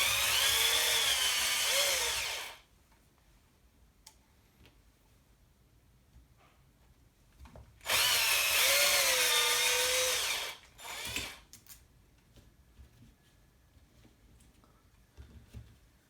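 Power driver removing screws from a Pro-Line Pro-MT 4x4 1/10 RC truck, two bursts of high whirring a few seconds each with a rising and falling pitch, separated by quiet handling clicks and small knocks.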